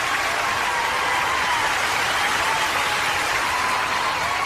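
Steady, dense applause fills a children's radio show, a continuous even wash of clapping at constant loudness with no voices over it.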